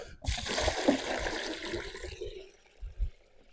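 A water mixture for raspberry plants gushes and splashes into buckets, a loud pour that trails off, followed by a couple of sloshing knocks.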